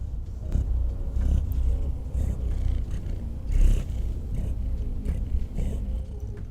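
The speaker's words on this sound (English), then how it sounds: "I bet we could hear her purring if we listen real close" A cat purrs close to the microphone in a low, continuous rumbling drone with soft pulsing swells, fairly loud and steady for several seconds, with no talking over it.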